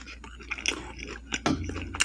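Turkey bacon being chewed up close, a few soft, irregular bites and mouth sounds in a quiet room.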